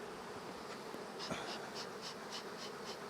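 Honey bees buzz around a hive during a heavy nectar flow, a soft continuous drone with individual bees passing close in brief louder swells, fairly faint overall.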